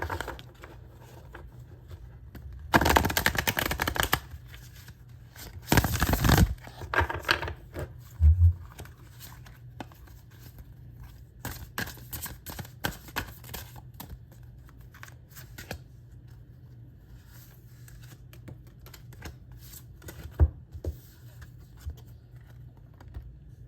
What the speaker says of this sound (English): let's pull out some tarot cards for you